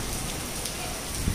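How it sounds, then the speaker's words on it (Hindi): Steady, dense rain hissing across the whole clip with no pauses, fairly loud and close, at a temple in Mathura, with no one speaking. "बारिश हो रही है।"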